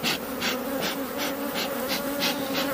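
Honeybees pour out of a crowded hive, making a dense continuous buzzing drone with pulsing swells roughly every third of a second. The sound is close and steady, with no voices.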